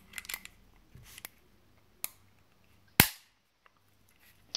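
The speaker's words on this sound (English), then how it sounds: "Now put the slide back together on the frame, line it up," Metallic clicks and snaps as the slide and slide stop of a CZ 75B pistol are fitted back onto the frame, with a few light taps and one sharp loud clack, separated by quiet pauses.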